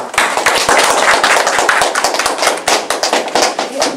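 An audience at a Korean lecture on labor and parliamentary politics bursts into loud, sustained applause to welcome the lawmaker giving the talk, a dense patter of many hands clapping steadily for the full stretch.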